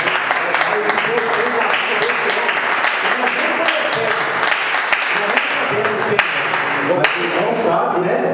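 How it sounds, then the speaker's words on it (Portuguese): A church congregation gives a round of applause, with dense, steady clapping that stays loud and close for the whole stretch, a few sharper claps standing out, and faint voices underneath. "Que a igreja dê uma salva de palmas."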